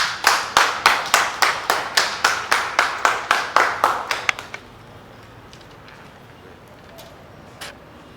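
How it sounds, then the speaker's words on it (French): Rhythmic synchronized clapping from an audience at an official donation handover ceremony, about fifteen evenly spaced claps at a brisk beat that stop abruptly, leaving a quiet room with faint scattered noises. "Applaudissons."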